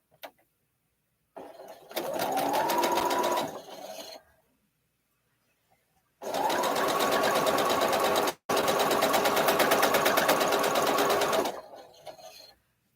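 A sewing machine stitches a simple nine-patch quilt block in two long runs of steady, fast whirring, with a short pause partway through the second run and silence between the runs.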